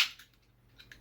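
A can of Liquid Death canned mountain water cracks open with one sharp, close pop-hiss, followed by a few faint metallic clicks in a quiet room.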